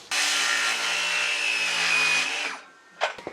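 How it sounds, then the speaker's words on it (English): Saw cutting a 10-foot wooden board to length for a shed's wall framing, a loud, steady continuous cut lasting about two and a half seconds, then stopping with a couple of brief knocks of wood afterward. "The first step is to cut down a 10-foot board to 113 inches."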